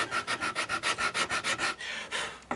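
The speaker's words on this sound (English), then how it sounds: "making a guitar is basically sanding a piece of wood until a guitar appears" Rhythmic rasping strokes of sandpaper shaping a wooden guitar body by hand, about a dozen quick back-and-forth passes, close and fairly quiet, slowing toward the end.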